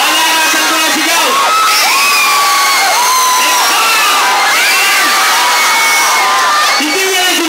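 A large university crowd at Jose Rizal University shouts and cheers loudly and continuously, with rising whoops and yells from many voices packed close together throughout.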